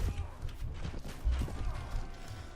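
Horse hooves clatter in quick, irregular clip-clop beats during a medieval battle in the Mount and Blade Warband video game, fairly faint under a dense, noisy background.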